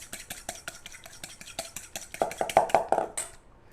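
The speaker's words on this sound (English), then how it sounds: "I'm going to take the bacon fat and my eggs and my black pepper, and I'm going to whisk that up nicely" A fork whisks bacon fat, eggs and black pepper in a bowl, a quick rhythmic series of light clicking taps that grows louder and busier, close up, with no talking.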